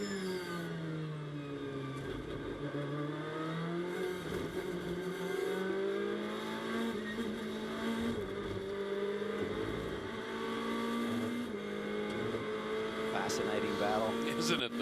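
GT race cars accelerate during a Blancpain GT World Challenge America race in Virginia, their engines rising and falling in rev sweeps and passing at mid distance, while commentators talk over the racing.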